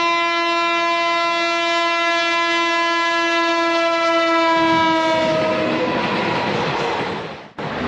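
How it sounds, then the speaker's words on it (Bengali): At a railway level crossing in Memari, a train's horn blares in a long, loud sustained blast, then the rumble and clatter of the passing train swells and takes over. "ট্রেন গেলে তারপর আমরা আবার যাব।"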